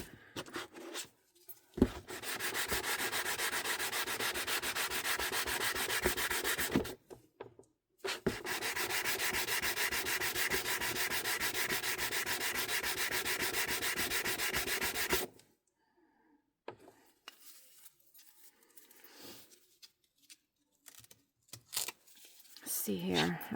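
A small sanding disc grinds across a glitter-filled eco resin art piece in two long, steady rasping bursts separated by a short pause, followed by near silence with faint movement.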